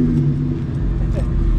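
A car engine rumbles loudly and steadily up close at a car meet, with a rising rev partway through and voices faintly in the background.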